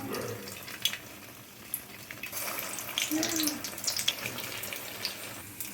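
Bread rolls go into hot oil for deep frying, giving a soft, uneven sizzle and bubbling with faint clinks and scrapes of a utensil, heard fairly quietly.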